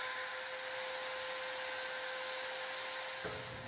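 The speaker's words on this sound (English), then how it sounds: "After setting the depth, clean out the sockets with a router" A router cleaning out dovetail sockets in a wooden table drawer gives a steady high whine throughout, then its cutting tone drops near the end, close and continuous.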